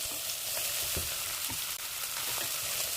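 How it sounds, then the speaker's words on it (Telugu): Onions, green chillies and ginger-garlic paste frying in oil in a pan, a loud steady close sizzle with a few faint stirring knocks, no voices. "సో ఒకటి పచ్చిమిర్చి, ఆనియన్స్ నూనెలో బాగా ఫ్రై అవనివ్వండి"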